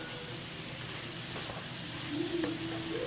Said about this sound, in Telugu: శనగపప్పు వేగాక బీరకాయ వేసుకున్నాను.